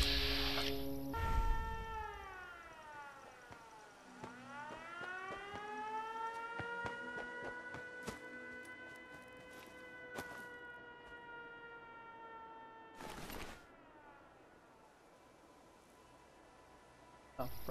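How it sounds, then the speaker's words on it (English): A wailing siren in the video game Fallout 4 rises and holds a long sustained tone, loud and continuous for many seconds, with sharp clicks and game noises breaking in. "You're a little late on the siren"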